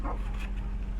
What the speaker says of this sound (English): Why do they bark at me?